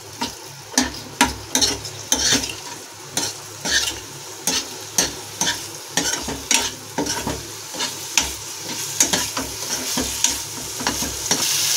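Paneer cubes fried with salt, black pepper and amchur powder in a pan, a utensil scraping and stirring in quick repeated strokes over a steady close sizzle.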